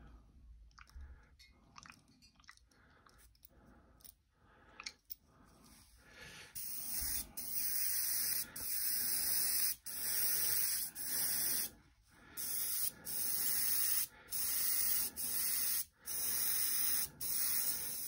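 An airbrush sprays Vallejo Model Air paint to prime a 54mm Historex figure, starting with soft short hisses and then building to loud, sustained bursts of spray cut by brief pauses, all close up with no talking.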